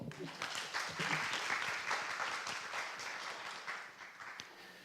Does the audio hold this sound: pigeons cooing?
no